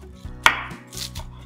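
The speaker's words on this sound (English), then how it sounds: "Chopping the coriander" A single crisp chop of a knife through fresh coriander on a cutting board, close and clear with no talking.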